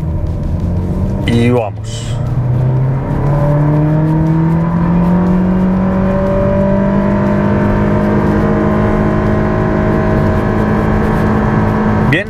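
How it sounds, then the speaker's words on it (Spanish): A Honda HR-V SUV with a naturally aspirated engine accelerates hard from standstill to 100 km/h in Sport mode, its engine note climbing steadily through rising and shifting tones, loud and close from inside the cabin, with brief talk at the start. "Lo primero que voy a hacer es ponerlo en modo Sport y ver cuánto hace de 0 a 100."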